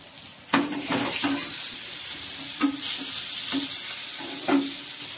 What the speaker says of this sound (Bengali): বেগুনগুলো একটু লাল লাল করে না ভাজলে ভালো লাগে না।